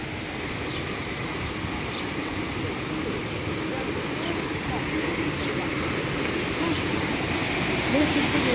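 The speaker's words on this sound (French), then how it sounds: "Et voilà la fameuse cascade." Waterfall in the village of Moustiers-Sainte-Marie, a steady broadband rush of falling water that holds at an even level throughout, with faint background sounds above it.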